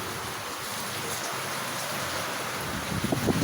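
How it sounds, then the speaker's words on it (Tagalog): Heavy rain with gusting wind pours down at night in a steady dense hiss, with a low rumble of surging gusts building near the end. "So malakas pa rin ang ulan dito sa lugar namin. Pabugso-bugso yung ulan na may kasamang hangin."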